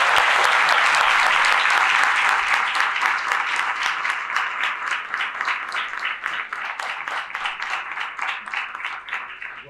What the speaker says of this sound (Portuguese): Peço uma salva de palmas para receber os professores.